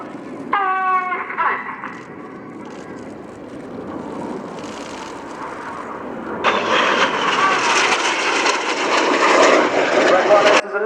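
Red Arrows display jets from the RIAT 2017 airshow at Fairford roar past in formation, a steady broad jet rush that swells loudly in the second half, with an announcer's voice over the noise.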